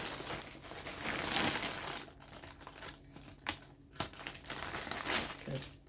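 A plastic Temu shipping bag crinkles and rustles steadily up close as it is cut open, with a few sharper crackles and snips toward the end and no talking.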